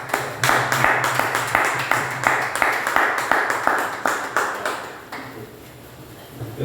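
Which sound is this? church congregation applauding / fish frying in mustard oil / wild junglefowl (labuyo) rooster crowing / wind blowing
church congregation applauding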